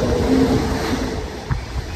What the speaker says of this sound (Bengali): দেখুন ট্রেন আসছে দূর থেকে